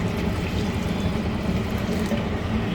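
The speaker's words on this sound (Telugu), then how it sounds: "ఇంకొంచెం పడుతుందండి వాటర్" Water pours steadily into a pan of pav bhaji, a continuous close splashing and gurgling pour with no voices.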